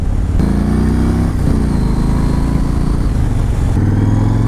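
A Yamaha Raider motorcycle engine revs and accelerates steadily, loud and close, with a brief dip in pitch partway through before it climbs again.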